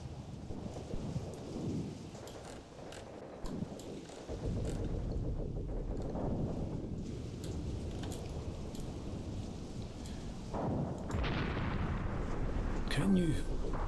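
Rumbling booms and crackling gunfire from artillery and small arms in the war game Graviteam Tactics, a continuous heavy barrage with louder bursts near the end, under talk from a player.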